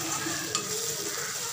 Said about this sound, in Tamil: இன்னும் கொஞ்சம் லைட்டாக வதங்கட்டும்.